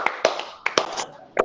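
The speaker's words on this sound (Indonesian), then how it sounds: "Tepuk tangan untuk kita semuanya." Several scattered hand claps and taps from children in a classroom ring out sharply at uneven intervals, close by, with no talking.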